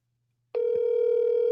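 A telephone dial tone starts abruptly after a half-second of silence and holds as a steady electronic hum, with a brief faint click near its start.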